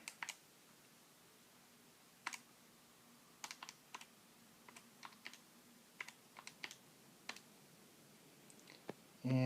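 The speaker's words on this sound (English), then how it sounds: "So I need to type this out." Sparse, irregular key presses on a calculator or keyboard while entering an exponential calculation, quiet and close, with short pauses between taps and a louder burst at the end.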